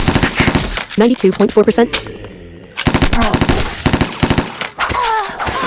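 MP5 firing in a video game: repeated sharp three-round bursts, loud and close, with a spoken voice over part of the gunfire.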